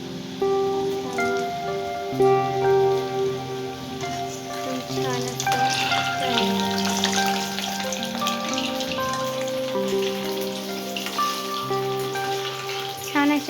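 French fries fry in hot oil with a soft, continuous crackling sizzle that sits beneath prominent background music throughout.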